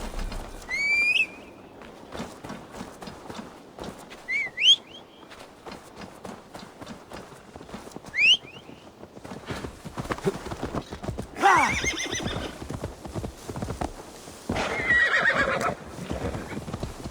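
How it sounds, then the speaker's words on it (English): Hooves clip-clop steadily as a horse moves along, with several loud whinnies breaking out over the rhythmic hoofbeats in a scene from Assassin's Creed Valhalla. "Now to deliver Magni his horse."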